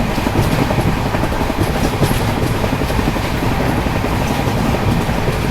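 The Dibrugarh Rajdhani Express rolls along steadily, heard from inside as a loud, continuous rumble with rhythmic wheel clatter and rattling carriage noise throughout.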